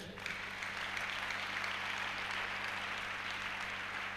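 A church congregation applauds in a steady, dense wash of clapping that holds at an even level throughout, with a low constant hum underneath.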